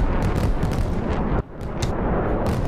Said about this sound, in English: It's probably artillery.